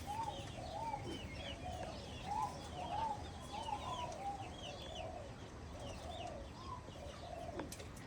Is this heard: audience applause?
no